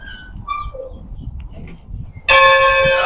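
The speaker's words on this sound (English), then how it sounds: "Okay. The train bell works." An old train bell at the Gunnison Pioneer Museum in Colorado is rung with a hard pull and gives one loud, ringing metallic strike that sustains to the end, after some quieter background sounds.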